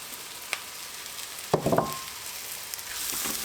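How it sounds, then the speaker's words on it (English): Leftover flour frying in a pan to thicken a sauce gives a steady low sizzle, with a brief cluster of scraping stir clatters in the middle and nobody speaking. "just fry the flour off"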